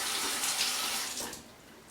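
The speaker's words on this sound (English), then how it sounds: "turning on water" A bathroom sink tap pours a steady, close stream of water that gushes strongly at first, then eases and thins toward the end.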